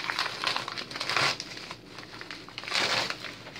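Birthday present wrapping paper crinkling and tearing in two loud close bursts, with a quieter rustling pause between them.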